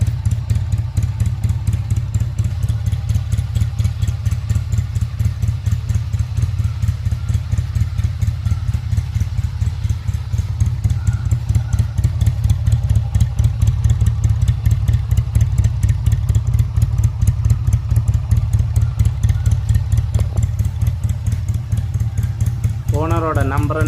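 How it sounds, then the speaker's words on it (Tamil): A Honda CD Road Master motorcycle with its original silencer and original carburettor idles close by, its engine beating in a steady, even low thump for the whole stretch. "இந்த சிடி ரோட் மாஸ்டரோட சவுண்டை பார்ப்போம்."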